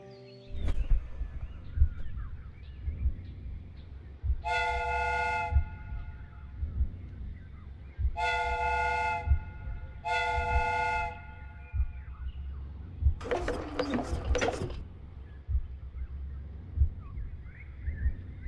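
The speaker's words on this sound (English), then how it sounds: "The steam whistle is ready to be used." Steam whistle from a train replica in the game Sherlock Holmes: Crimes and Punishments, sounding three distinct harmonic blasts of about a second each, followed by a louder hissing burst of steam, over a low mechanical rumble.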